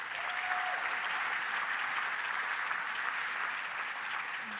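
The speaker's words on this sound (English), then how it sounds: "How about a round of applause for all of you?" A large audience applauds steadily at a rabbi's anniversary celebration, an even, sustained wash of clapping heard slightly distant in the room, without voices.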